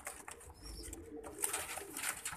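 A pet pigeon with a red-eyed, leg-ringed mate coos softly in a short, low, throaty call close by, with faint hissy background noise and no talking.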